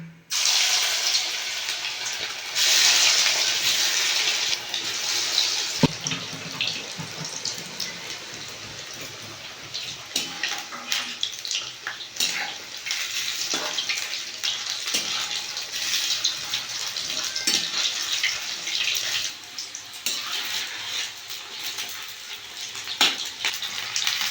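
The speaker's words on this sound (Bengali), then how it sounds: "তেল গরম হয়ে গেছে সাবিনটা আমি দিয়ে দেবো" A continuous hiss of soya chunks frying in hot oil, with scattered crackles and pops, plus occasional clinks of a utensil.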